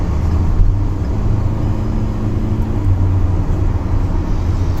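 Kia Sonet turbo petrol cruising at speed on a highway, a steady loud low engine and road drone with tyre rumble, continuous and unbroken.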